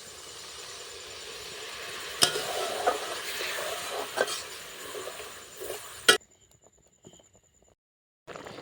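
Masala stirred in a pan while a ground cashew, melon seed and poppy seed paste water is poured in, for a rasgulla korma; steady sizzling with scraping stirs and clatter, ending abruptly in near silence with a faint clink.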